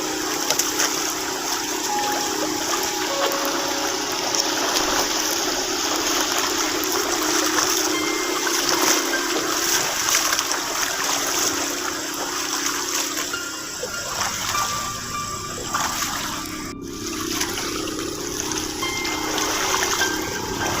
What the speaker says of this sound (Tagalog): Puro ilog po.